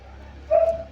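A dog gives one short, sharp bark close by, standing alone against a quiet background.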